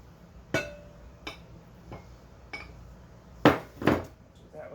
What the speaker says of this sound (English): Just kind of mix it around.